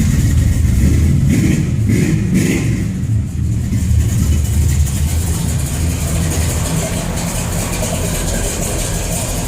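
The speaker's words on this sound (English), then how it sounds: "these young punks and their hot rods and their leaky exhaust pipe" A loud, steady engine of a 1970 Monte Carlo SS 454 rumbling and idling with a deep, rough exhaust note from a leaky exhaust, revving slightly throughout, with no voices.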